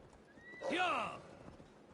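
A single horse whinnies briefly in the video game Assassin's Creed Valhalla, a rising then falling neigh over faint background noise.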